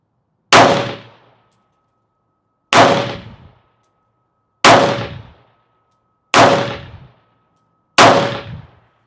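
Five gunshots from a Ruger LC Charger firing 5.7x28 Elite S4 28-grain ammunition, each a sharp loud crack with a short decaying ring, evenly spaced about two seconds apart with silence between.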